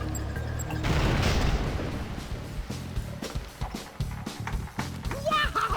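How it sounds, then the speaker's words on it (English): Explosion in the LEGO City Undercover video game: a loud, broad burst of rumbling noise erupts near the start and decays over a couple of seconds, followed by clattering game sounds and character speech. "Wow! That explosion was awesome!"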